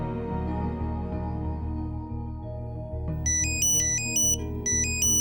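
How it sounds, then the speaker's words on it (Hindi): A phone ringtone starts partway through, a loud repeating electronic melody in bright looping phrases over a steady tonal music bed, close and clear with no talking. "किसका फोन आ गया सुबह ही सुबह?"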